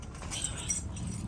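Car keys jangle in a 1967 Chevrolet Chevelle Super Sport, a short, soft metallic rattle close by with one brighter clink near the middle.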